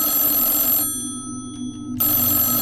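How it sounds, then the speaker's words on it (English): A telephone rings in the horror game Everlasting, a loud electronic bell tone that cuts out for about a second midway and then resumes, heard alone without speech. "That ringing sound is penetrating my eardrums."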